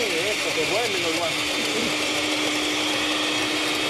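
A blender whirs steadily while making a coconut cream drink, giving a loud, continuous motor drone throughout, with a voice talking over it near the start.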